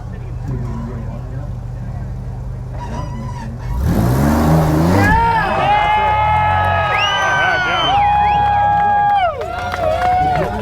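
An off-road car climbs a Trail Hero obstacle course in competition. Its engine revs rise in loud, sustained whines midway, with a crowd and commentary heard throughout.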